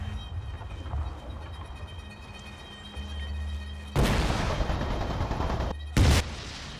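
Artillery fire in the War Thunder combat game, with low engine rumble and a faint hum giving way to a loud, broad blast near the four-second mark that rolls on for over a second, followed by a second sharp burst.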